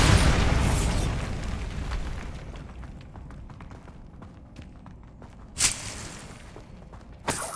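A Bombarda blasting spell detonates in the Hogwarts Legacy video game, a loud booming blast at the start that rumbles and fades, followed by two sharper bursts later, with faint footsteps between.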